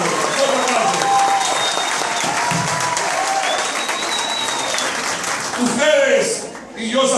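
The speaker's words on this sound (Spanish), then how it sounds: "queremos un fuerte aplauso en honor a esta institución" Loud, sustained applause from an audience at a ceremony honouring women of a national chamber, a dense crowd clapping steadily throughout with some whistles or cheers near the end.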